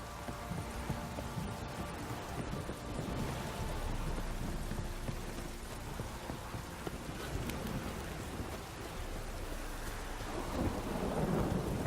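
Steady heavy rain hisses throughout while low rolling thunder rumbles beneath it, a continuous stormy wash with no talking, in The Witcher 3: Wild Hunt.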